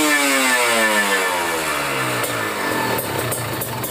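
Kawasaki Ninja RR motorcycle engine with a PWK30 carburetor, loud and close, its revs falling steadily from a high rev down toward idle.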